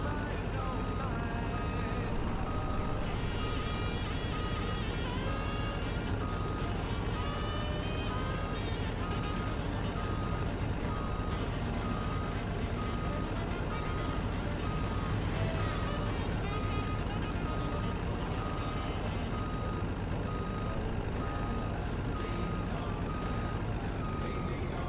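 A truck in a video game gives repeated reversing beeps over a steady engine drone, continuous throughout, while someone talks over it.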